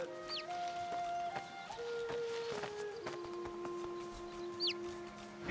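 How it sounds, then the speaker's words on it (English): Magic cockerel in Divinity: Original Sin II, a short series of clear clucking calls over a quiet game background, with a couple of brief high chirps mixed in. "Behold! It is I, the magic cockerel."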